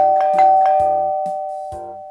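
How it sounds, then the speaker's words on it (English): A doorbell chimes in a quick series of bright electronic dings, close and clear, with a sustained ringing tone underneath and no talking. "the doorbell rang."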